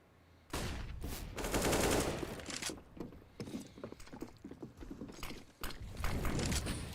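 In a competitive esports match of a video game, Desert Eagle pistol shots and a clatter of other gunfire go off repeatedly. The shots come as sharp, rapid bursts mixed with mechanical clicks, loud and close, with no clear speech.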